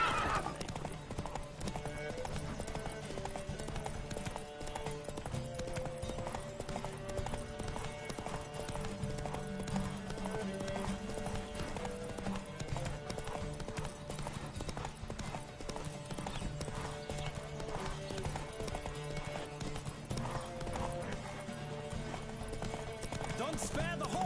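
A horse gallops in a race in The Witcher 3, steady rhythmic hoofbeats pounding throughout over game music, with a rider's voice calling out at times.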